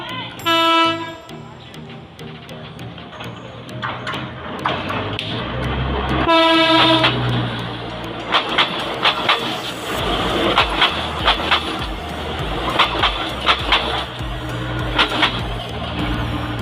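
Train rolling past on railway tracks right beside a house, starting with a loud horn blast and then a sustained rumble with rhythmic clatter of wheels, close and loud throughout.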